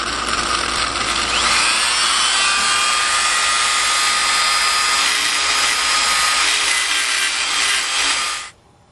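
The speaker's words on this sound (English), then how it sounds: "we're going to take our Dremel, and we're going to grind this down a little bit" A Dremel rotary tool grinds down a cam for clearance, a steady high-pitched whining grind held continuously at close range for about eight seconds before cutting off abruptly.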